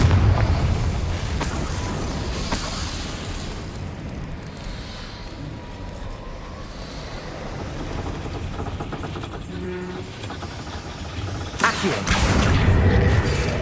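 A fire-spell explosion in the video game Hogwarts Legacy, with booming blasts at the start and again near the end over a dense, rumbling game soundscape, and no clear talk.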